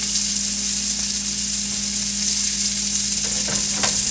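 Food cooks in butter in a pan with a loud, continuous sizzle and hiss, and a few faint stirring ticks late on. No one speaks.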